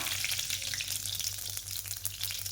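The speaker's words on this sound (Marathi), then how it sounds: "तेल चांगले तापले आहे, मी घालत आहे मोहरी, जिरे, एक तेजपत्ता" Mustard seeds, cumin and a bay leaf sizzle in hot oil, a steady close crackle with a faint rhythmic low hum beneath, no voices.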